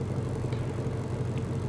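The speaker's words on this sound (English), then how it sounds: "It's just sitting, idling." A new Ford Mustang GT500 engine idling with a steady, low, even rumble that holds constant and fairly quiet throughout, with no revving.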